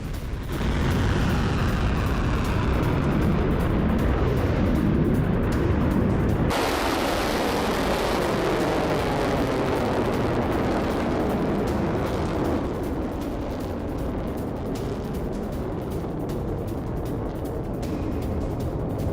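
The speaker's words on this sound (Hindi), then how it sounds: "ईरान ने पहली बार फतेह मिसाइल का इस्तेमाल किया" Iranian Fateh missile strike explosions in war news footage: a sustained, loud roaring rumble with heavy low-end blasts, shifting after a few seconds into a continuous thunderous din with no voices.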